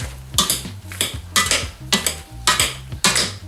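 Drained boiled potatoes are crushed with a potato masher in a pot, and each press brings a squelching push with a metallic clink, repeating about every half second, close and clear with no talking.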